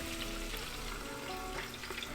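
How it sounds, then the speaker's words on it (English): Steady sizzling and crackling of fish pan-frying, a continuous close hiss with small pops throughout. "while this is pan frying, I'm just gonna take a lid and cover it"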